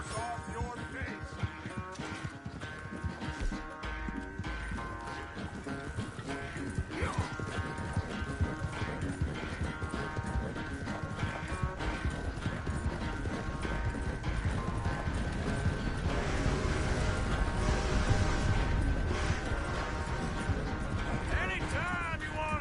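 Horse hooves clip-clop steadily through a dense, busy soundscape in the Red Dead Redemption video game, mixed with music and game effects at moderate loudness.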